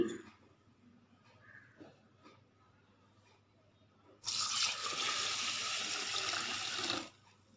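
Quiet background at first, then water pours steadily into a container of idli rice, made from ration rice, for about three seconds before stopping, soaking the rice.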